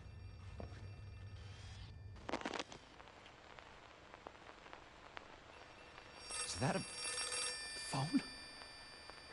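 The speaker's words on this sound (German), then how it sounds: "Ja, Mann, das ist tatsächlich ein Telefon" Telephone ringing in the horror video game Outlast 2, a few short ring bursts heard over dark ambient game sound, with someone talking in between.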